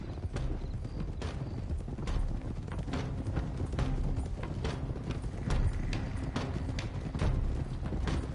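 Horse hooves clip-clop in a steady gallop rhythm through a Red Dead Redemption 2 ride, dense and close, with an occasional faint whinny and no talk.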